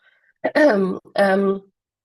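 Two harsh, throaty coughs close to the microphone, one right after the other, with silence around them.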